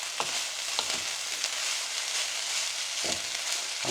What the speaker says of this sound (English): Really you want this meat, this pork, to be browning off a little bit.